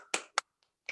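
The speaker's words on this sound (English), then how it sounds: "Clap." A few sharp, separate hand claps sound close by at a Buddhist full moon day gathering, with about four crisp hits and short silences between them.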